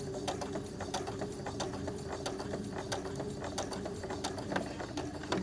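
Sewing machine slowly top stitching around the curve of an AirPods keychain case, a steady low motor hum with evenly spaced ticking needle strokes, close and unbroken.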